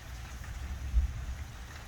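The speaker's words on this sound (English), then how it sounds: "I'm not getting wet from the rain I hear." Steady rain falls outdoors near a covered shelter, a soft continuous patter with one slightly heavier thud of dripping water in the middle.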